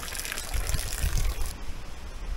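Shower water runs steadily in a resort bathroom, a close, loud spray and splash rushing continuously, then thinning after a moment, with no talk.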